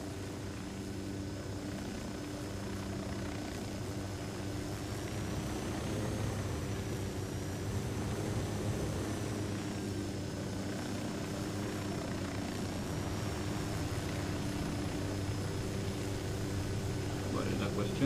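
A helicopter flying, a steady droning rotor and engine hum with a faint high whine that holds at an even level throughout, slightly louder in the middle.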